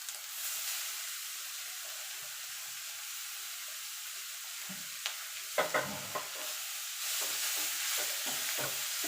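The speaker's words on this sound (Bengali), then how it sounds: "এবার ভালো করে নেড়ে দেবো।" Grated beetroot and carrot stirred in a frying pan with ginger and turmeric, a faint steady sizzle joined midway by a cluster of scraping spatula strokes, then the hiss continues.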